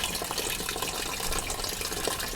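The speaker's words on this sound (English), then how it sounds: "any water that comes from the sieve is channeled down into here and along here" Water drains from the sieve of a paper briquette press and runs down a channel, making a steady, even trickling and splashing that continues without pause throughout.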